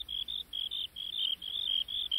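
Crickets chirp in quick, evenly spaced bursts of high trilling pulses, close and clear over a quiet background.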